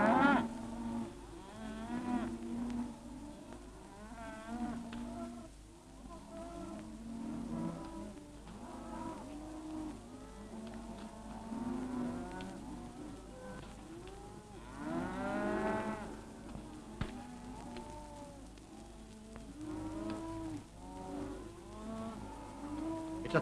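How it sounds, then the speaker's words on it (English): A large herd of beef cattle on the move bellows and moos repeatedly, with many overlapping calls near and far over a steady low background and no speech. "It's a thrilling sight to see a vast mob of cattle on the move, to hear the bellowing herd"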